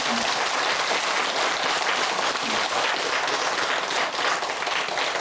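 A large gathering at a Buddhist temple ceremony breaks into loud, sustained applause, steady dense clapping that holds at full strength throughout without any voices coming through.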